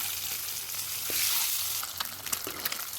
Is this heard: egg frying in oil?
yes